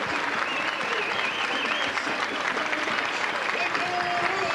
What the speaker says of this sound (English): Get a standing ovation from the crowd.